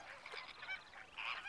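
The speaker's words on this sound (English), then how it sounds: "Hundreds of flamingos have congregated here already, arriving from Africa and the Mediterranean coasts." Faint, distant honking calls from a large flock of flamingos gathered at a breeding site, overlapping nasal notes with no talking.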